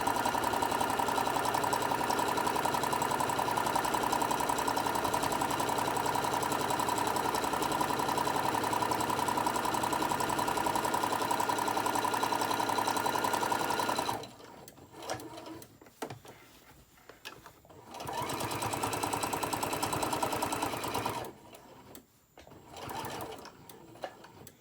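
A sewing machine stitching straight lines across a quilted candy corn print mug rug runs in a loud, continuous mechanical whir for about fourteen seconds, then stops and starts in shorter bursts with quiet gaps between.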